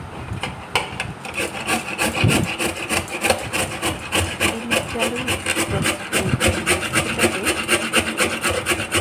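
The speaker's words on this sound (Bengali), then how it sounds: "তারপর একটা চপার দিয়ে এটাকে ভালো করে ঘষতে হবে।" Sweet potato rubbed back and forth against a metal grater in a kitchen, a steady, close rasping scrape repeating in quick, even strokes throughout.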